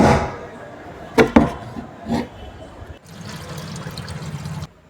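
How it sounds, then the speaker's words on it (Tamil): Water runs out of a water tank in a steady, close rushing stream for the last couple of seconds, preceded by a few sharp knocks and handling clatters. "டேங்கில் உள்ள எல்லா தண்ணியும் வெளியே போகுது."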